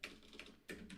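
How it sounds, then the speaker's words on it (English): Bursts of fast computer-keyboard typing, quiet and close, with short clustered keystroke flurries broken by a brief pause; no voices. "my typing is atrocious today"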